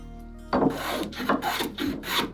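Hand-rasping strokes round over the wooden cap rail of a Bouchie Dory boat, starting after a half-second of near silence, then four or five steady, close, scratchy passes in an even back-and-forth rhythm.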